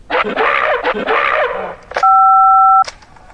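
A telephone voicemail greeting ends in a steady two-pitch electronic tone that holds for nearly a second after a short burst of voice-like sound, followed by a brief click and fade.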